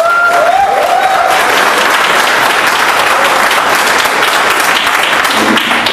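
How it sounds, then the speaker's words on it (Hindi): Loud, sustained applause from a large crowd at a Vestige business meeting, dense clapping filling the room steadily from start to finish, with brief whistles or cheers rising early on. "एक बार जोरदार ताली होनी चाहिए।"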